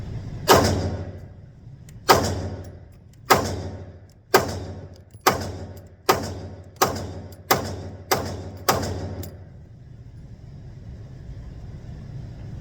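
A P30L pistol fires nine sharp, loud shots spaced roughly a second apart, each with a short echoing decay, followed by a few seconds of low background hum.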